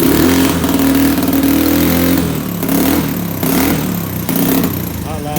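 A Navi motorcycle engine runs just after its first start-up, loud and close, needing plenty of throttle; it surges and revs repeatedly in uneven waves without settling to an idle.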